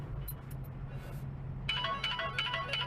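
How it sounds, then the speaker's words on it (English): A mobile phone ringtone starts partway through, a bright repeating melodic tone ringing out over steady low background hum in a work setting. "I didn't even know that was my phone."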